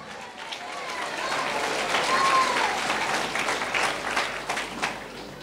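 A crowd at a religious gathering applauds with dense, sustained clapping that rises and falls over several seconds, with voices mixed in.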